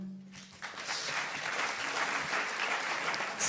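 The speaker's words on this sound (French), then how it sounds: "bravo Rémi, on peut t'applaudir" A festival audience applauds a startup pitch, a steady wash of clapping that swells after a short lead-in and holds for a few seconds.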